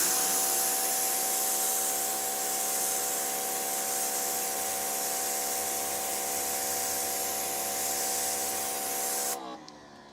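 A Greenworks 3000 PSI electric pressure washer fitted with a turbo nozzle sprays a steady loud hiss with a whining motor tone for about nine seconds before cutting off abruptly.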